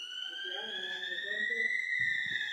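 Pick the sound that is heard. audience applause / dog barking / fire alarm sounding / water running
fire alarm sounding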